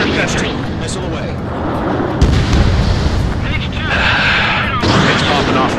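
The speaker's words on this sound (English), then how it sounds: "Missile away." Missile launch and explosions from the combat flight game Ace Combat 7, a loud continuous roar of blasts and rumbling with bursts layered over it, plus a voice speaking through the din.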